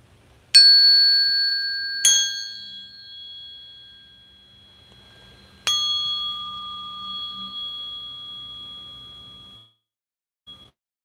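Tuning forks used in a chakra energy balancing session are struck three times, each strike a clear metallic ping that rings on as a pure sustained tone, slowly fading over several seconds in a quiet room.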